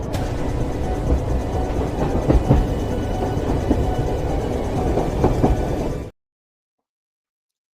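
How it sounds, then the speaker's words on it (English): A passing train with steady rail clatter and rumble, used as a sound effect for a haunted train, runs loud and continuous for about six seconds with occasional clanks before cutting to silence. "Let me grab the haunted train to pick up our members."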